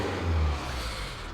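A 2008 Kia Sedona 2.9 CRDi diesel with an engine knock fault revs with the accelerator floored, a brief, loud low drone that swells and then holds steady.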